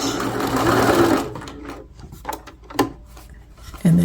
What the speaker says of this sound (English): so now I'm going to stop and I'm going to backstitch